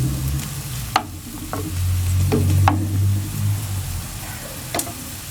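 Chopped onion sautés in a pan as the base for a mussel tajine, a steady close sizzle with a few sharp clicks of a utensil stirring against the pan, and no voices.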